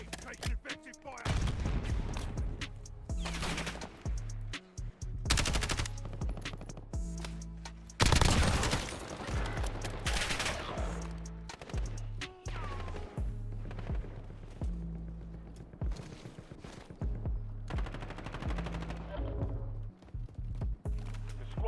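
Dense gunfire and a grenade blast fill a first-person shooter video game battle: continuous rapid automatic bursts and single shots, with a loud heavy boom near the middle and faint voices underneath.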